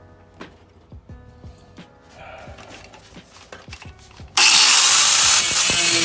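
A power tool cutting and grinding thick, heavy race car metal: scattered knocks and handling sounds first, then a sudden loud sustained grinding screech that fills the rest.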